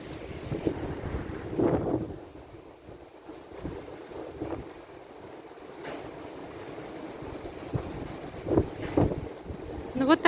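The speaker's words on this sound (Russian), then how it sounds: "Вот такой у нас сильный ветер." Strong, gusty spring wind blows outdoors near a house in Krasnodar, buffeting the microphone with a steady rushing roar and louder swells at intervals.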